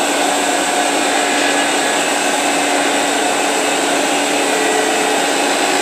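A steady, high-pitched whirring hiss from a wood lathe cutting with a skew chisel through a hard spot in the wood, continuous and loud with no pauses.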